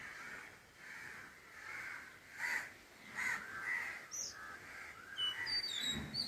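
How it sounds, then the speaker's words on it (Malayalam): A crow caws repeatedly from some distance while circling near a house, with short harsh calls spaced irregularly and a few small chirps from another bird near the end, over quiet outdoor background. "കാക്കയും ചുറ്റുവട്ടം കറങ്ങുന്നുണ്ട്"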